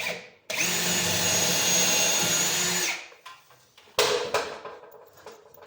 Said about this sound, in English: just drilling them to stop them from